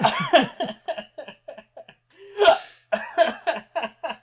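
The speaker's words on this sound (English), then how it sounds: "Oh no, it's not a hiccup fit, is it?" A string of repeated hiccups from a person, short sharp gulping catches at an uneven rhythm, mixed with laughter and a gasp partway through.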